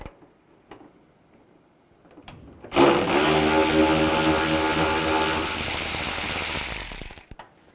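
A 7mm socket wrench backs out a bumper screw on a 2010-2017 Chevrolet Equinox, a loud, steady mechanical ratcheting whir running about four seconds before stopping, with quiet handling clicks around it.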